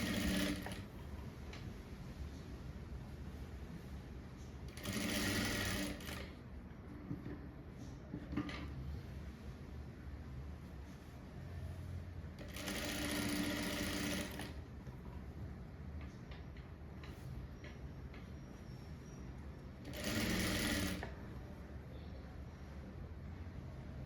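A sewing machine slowly stitches a blouse back neck design in three short bursts, each a second or two long, separated by quieter pauses with faint handling sounds; close and moderately loud, with no talking.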